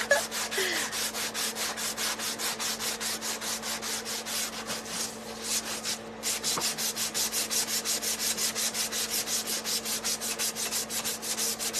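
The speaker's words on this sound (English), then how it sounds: "So let's just sand a little bit and just see if it helps." Rhythmic back-and-forth sanding on wood with a worn sanding block, rapid even strokes with a short break midway, close and continuous with a faint steady hum underneath.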